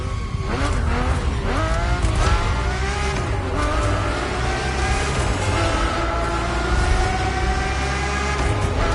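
Naturally aspirated Formula One-derived V12 of a Ferrari F50 at full cry, loud revving with rising and falling pitch across gear changes and some tire squeal, sustained and close with no voices.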